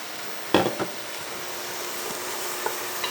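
Mushrooms sautéing in a pan for a turkey pot pie, a steady soft sizzle with a few sharp stirring knocks of a utensil against the pan.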